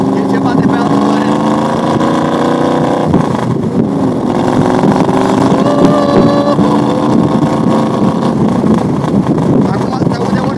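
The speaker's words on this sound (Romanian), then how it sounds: "mașina este cu motorul pe 4 carburatoare și o să auziți imediat sunetul" A loud AC Shelby Cobra engine with four carburetors runs steadily nearby with a rough, throaty idle, while voices talk over it.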